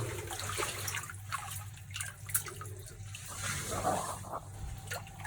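Water gushes through an open tap to flush out a dried-up well shaft, a faint, continuous rushing and trickling heard from close by, with no speech.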